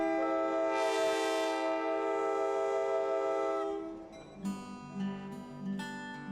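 A Nantahala Gorge excursion train pulls out of Bryson City, its loud, steady horn blaring for about four seconds before fading into rumbling and clanking as the cars start to roll.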